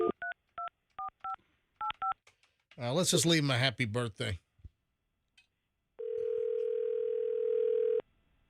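Touch-tone dialing beeps in short bursts, then a voice speaks briefly, followed by a steady, loud ringback tone lasting about two seconds on a phone call.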